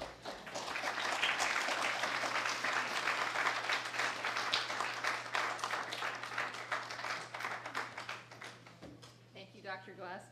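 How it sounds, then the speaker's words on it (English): A large audience applauds in a dense, steady wash of clapping that thins out near the end as a voice comes in. "Let's give him one more round of applause."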